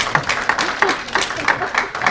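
Audience at an immigration forum applauding, a steady patter of hand claps from a mid-sized crowd indoors, fairly close and continuous, mixed with faint voices.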